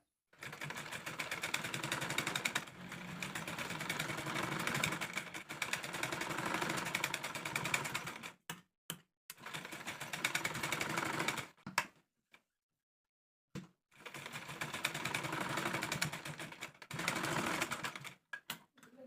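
Sewing machine stitching the shoulder seam of a pleated nighty, running in long steady bursts of several seconds with brief pauses between, close and clear with no talking.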